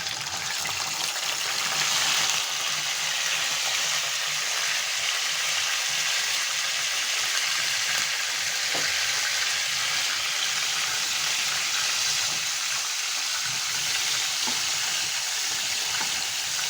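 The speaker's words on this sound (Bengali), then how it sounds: "তেলটা গরম হয়ে গিয়েছে, এখন আমি মাছের মাথাগুলো ভেজে নেব।" Hilsa fish heads fry in hot oil, giving a continuous, fairly loud sizzle with a crackling, watery texture that carries on unbroken and close by, with no talk over it.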